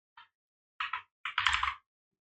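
A computer keyboard clicks quietly up close: a single keystroke, a pause, a quick pair of taps, then a brisk burst of several keys, ending in silence.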